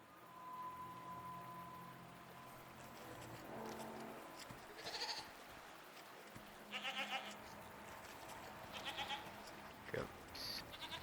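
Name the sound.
goats bleating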